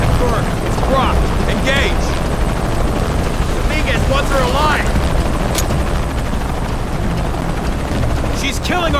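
A helicopter in the video game Shadow of the Tomb Raider drones steadily and loudly throughout, with shouted voices and combat chatter over the rotor noise.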